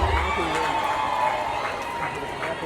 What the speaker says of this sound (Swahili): Naomba nisikie makofi na vigelegele vya kutosha